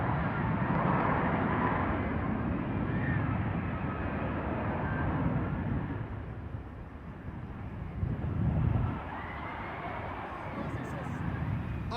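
An F-16 fighter jet gives off a steady, broad engine roar that fills the whole stretch, rising briefly in loudness partway through, with wind buffeting and a voice talking over it.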